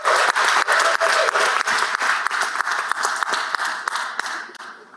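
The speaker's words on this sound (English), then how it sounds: "Let's give her a big round of applause." Applause fills the Senate chamber, loud and steady, with sharp individual claps standing out and the sound tapering off toward the end.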